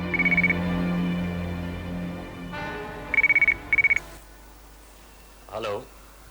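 A telephone rings in short, trilling electronic bursts, once at the start and then twice more close together, fairly loud over a steady low hum, with a brief voice after the ringing stops.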